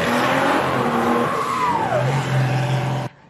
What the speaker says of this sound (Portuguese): E esse burnout aí, mano, acho que foi o mais louco que já fizeram.